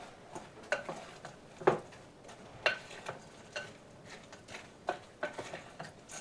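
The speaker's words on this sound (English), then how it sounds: "And give it a big stir." Fritter batter with Parmesan pieces being stirred in a bowl, quiet irregular scraping taps and soft clicks from the utensil, close and faint with a low background hiss.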